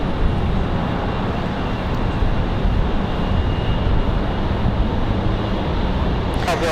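Continuous broadband roar of an airliner arriving at Raleigh-Durham airport from LaGuardia on a windy day, heavy wind buffeting mixed in, loud and unbroken.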